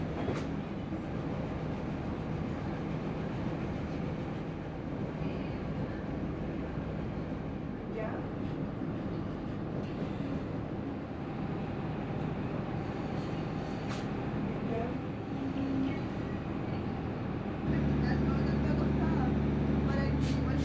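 A train on the Cork to Cobh railway line rumbles steadily along the track with a continuous close roar and faint rhythmic clicks, a voice speaking over the running noise.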